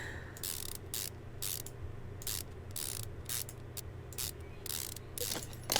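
Wheel bolts are tightened in Car Mechanic Simulator 2015: quick bursts of rapid ratcheting clicks repeat in an irregular rhythm over a low steady hum, close and clear with no voices.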